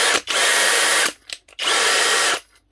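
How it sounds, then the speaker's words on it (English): Cordless drill driving a Wiha screwdriver bit, two loud close bursts of whirring motor about a second each, separated by a short pause with faint clicks. "I like these here just for the cordless drill."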